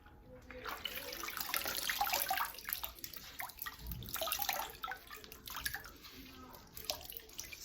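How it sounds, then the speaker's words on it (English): Bubbling and dripping water as a shirt is pushed under and held in a vat of indigo dye, small gurgles and trickles close by, steady and fairly quiet throughout. "And you can hear the bubbles."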